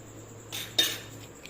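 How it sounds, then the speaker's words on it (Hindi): A spoon scrapes and clinks against a metal vessel while scooping finely pounded neem and giloy for a herbal decoction, giving two short, quiet scrapes close by, with no talk. "अब मैं इसे चम्मच से उठा के"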